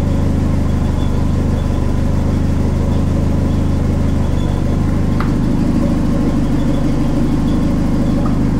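A Volvo 940 engine idles steadily at about 800 rpm with a low, even rumble throughout, with a brief faint click partway through.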